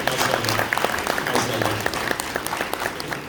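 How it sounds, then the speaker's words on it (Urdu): Sustained audience applause at a fundraising evening event, dense steady clapping from a crowd filling the room throughout, fairly loud and close, with some faint voices mixed underneath. "بہت ساری تالیاں اقرار بھائی کے لیے"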